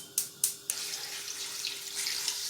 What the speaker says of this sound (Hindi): अब इसमें मैं 1-2 जग पानी के डाल के अभी फुल फ्लेम पे रखूँगी।